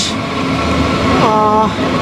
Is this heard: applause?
no